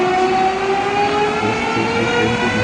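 A train in a story-mode video game rumbles steadily with a continuous droning hum and faint tonal whine, loud and even from start to end, with no voices.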